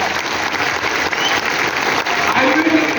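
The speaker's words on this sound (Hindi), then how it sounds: "तालियां जोरदार लगाइए।" An audience applauds loudly and steadily for about three seconds at a business seminar, with dense continuous clapping and faint voices underneath.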